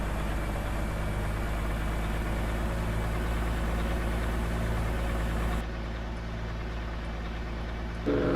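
Heavy vehicle engine idling in Farming Simulator 19, a steady, loud low rumble with constant harmonic drone throughout, slightly dropping in level partway and holding alone without talk.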